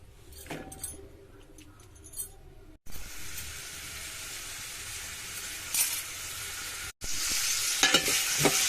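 Onions and green chillies fry in oil in a pan for a meal maker curry, a steady broadband sizzle with occasional stirring clinks, breaking off briefly twice before resuming louder.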